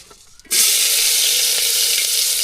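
Onion drops into hot oil in a pan, bursting into a loud, close sizzle after a brief quiet moment and then hissing steadily without a break.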